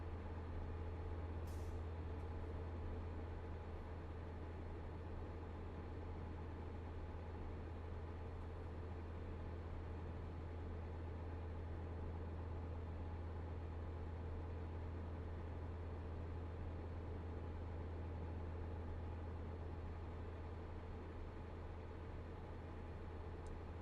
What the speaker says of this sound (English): I know the tire noise is quite bad